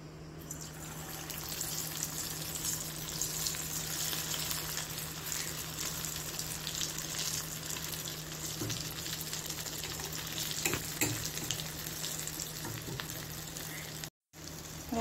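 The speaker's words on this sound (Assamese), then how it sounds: "এখিনি ভাজি লম" Mini samosas fry in oil with a constant, fairly quiet close sizzle and occasional stirring taps, steady from start to end.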